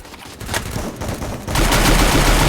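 Rapid automatic gunfire from the Free Fire mobile battle game, loud and continuous bursts that intensify into a dense volley midway, with no talking.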